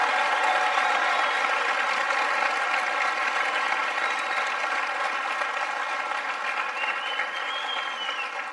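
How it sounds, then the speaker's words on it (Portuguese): Audience giving a round of applause for Africa, dense continuous clapping from a crowd, steady and loud throughout before tapering at the very end. "então receba essa salva de palmas"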